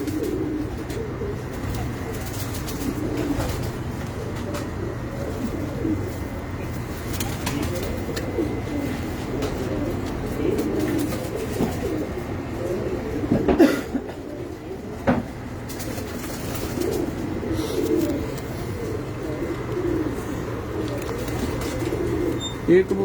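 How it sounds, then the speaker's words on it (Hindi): Pigeons cooing on a rooftop loft, a steady low murmur of coos running throughout, fairly close, with occasional knocks and light movement sounds. "ये कबूतर है जी"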